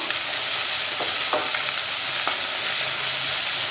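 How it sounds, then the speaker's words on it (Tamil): Steady sizzle of onions frying in a pan for green gram curry, with occasional stirring scrapes, close by and fairly loud, with no voices. "வெங்காயம் நல்லா வதக்கிறதுக்கு"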